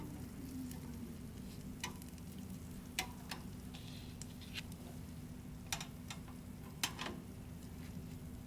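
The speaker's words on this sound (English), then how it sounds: "Sizzling." Food for a breakfast sandwich sizzles in a pan, a quiet steady crackle and hiss with scattered sharp pops and ticks, heard alone at close range.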